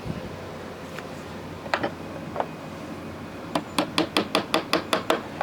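A few scattered light taps, then a steady run of about nine sharp metallic strikes from a handmade hammer on a wooden wedge, evenly paced and close by.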